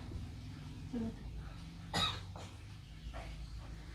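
A patient gives a few coughs close by during chest physiotherapy, one sharp and forceful in the middle with weaker ones around it, over a quiet room with faint voices.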